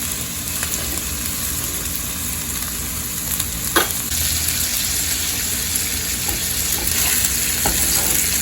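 Steak au poivre topped with butter sizzles steadily in a hot pan, a close, continuous frying hiss with a few brief clanks and stirs and no talking.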